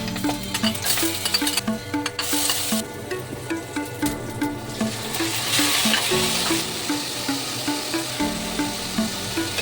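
Vegetables being sautéed for a Filipino ginisang gulay, a loud steady sizzle and frying hiss with rhythmic clinks and scrapes of a utensil stirring in the pan throughout, no voices.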